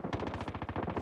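Automatic sentry gun in Call of Duty Domination gameplay fires a rapid, steady burst of closely spaced shots, loud and continuous with no talk.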